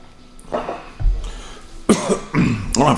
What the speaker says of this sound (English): I've been like coughing like crazy.